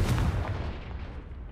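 A short booming burst from the Confringo fire spell in a Harry Potter–style video game, a single low blast that fades away over about a second and a half.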